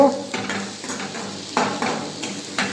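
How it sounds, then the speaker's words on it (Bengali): Potatoes and chopped onion frying in a pan while being stirred, with scraping strokes of a utensil against the metal every second or so over a steady low sizzle; close and moderately loud, no talking. "আলু দিলাম আলুগুলো খুব ভেজে নেব"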